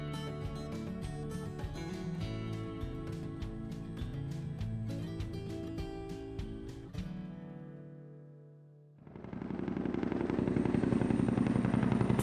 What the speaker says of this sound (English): First time the helicopter comes in